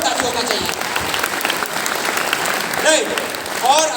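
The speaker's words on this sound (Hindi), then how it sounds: "उनके लिए जोरदार ताली होना चाहिए" An audience at a training event in a Kolkata hotel applauds with loud, steady, continuous clapping, with a few whistles rising near the end.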